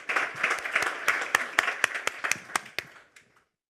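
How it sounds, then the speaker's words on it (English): Applause from a debate audience, a moderately loud patter of many hands with sharper individual claps standing out, fading away after about three seconds. "please applause for Daisy Christodoulou."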